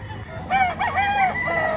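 A white Kelso stag rooster, a young fighting cock, lets out one close, loud crow lasting about a second and a half over a low background rumble.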